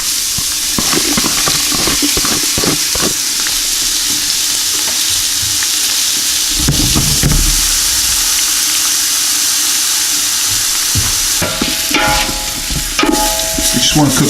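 Chopped onion and garlic fry in a pan as the base for a meat pasta sauce, with a loud, steady sizzle and hiss, plus occasional stirring scrapes and clatters, especially near the end.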